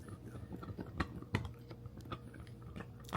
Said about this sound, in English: if you hear any chomping right now, it's because my dog decides every time I start to record